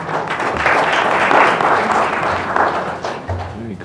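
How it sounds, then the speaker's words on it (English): Audience applause at a village board regular meeting in Gurnee, a broad steady clatter of clapping filling the room for a few seconds, with faint voices and a thump near the end. "They clapped. Oh, they clapped."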